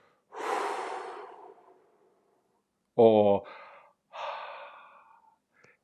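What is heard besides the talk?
mouth breathing during breathwork exercise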